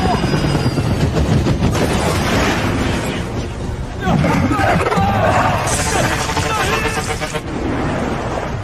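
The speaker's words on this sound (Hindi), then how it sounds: "हेलीकॉप्टर क्रैश हो रहा है, कूदो।" A helicopter crashes in a Hindi-dubbed action movie: loud rotor chop and roaring engine mixed with blasts, debris rumble and dense soundtrack layers throughout, with shouted voices in places.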